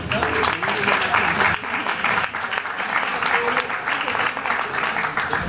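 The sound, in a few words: audience applause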